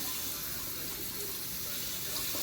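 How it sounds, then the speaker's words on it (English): Cold tap water pours steadily into thin crepe batter in a home kitchen, a continuous close splashing gush that runs alone through the whole moment. "Add 1 cup of water,"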